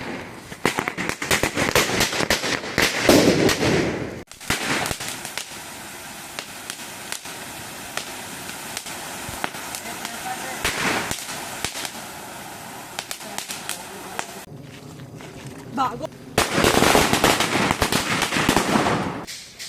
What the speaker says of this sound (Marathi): आता जाऊ फटाके फोडायला.